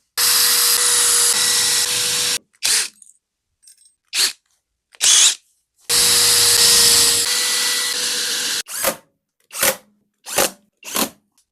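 Two long, loud whirring runs from a cordless drill, each followed by short separate bursts of driving Torx head screws into a tablesaw fence, with silence between them.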